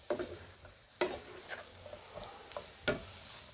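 Chicken pasta is stirred in a pan over high heat, with a spatula scraping and knocking against the pan at irregular intervals over a soft, steady frying sizzle.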